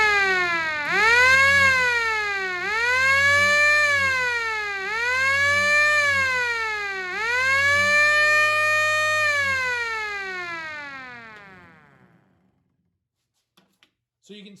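Mechanical hand-driven siren of the kind fitted to Harley police motorcycles and used in WW2, winding up and down in four loud rising and falling wails before spinning down to silence, with faint clicks at the end.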